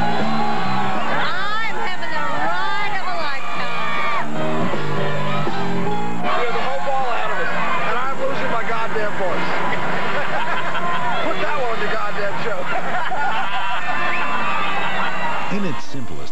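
A dense street crowd at a New Orleans Mardi Gras parade yells and cheers without pause, loud overlapping shouts, whoops and babble filling the whole stretch.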